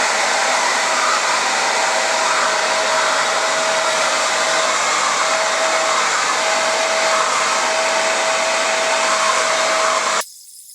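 A hair dryer with a diffuser attachment dries natural hair after a wash-and-go, roaring in a loud, steady whir close by for about ten seconds before switching off abruptly.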